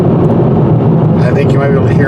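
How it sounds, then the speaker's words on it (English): Low, steady tire and road rumble fills the cabin of a 2021 Hyundai Veloster N Turbo small sports car driving over rough, nasty pavement, loud and continuous with no talk over it. "these tires and wheels generate a lot of rumbling noises"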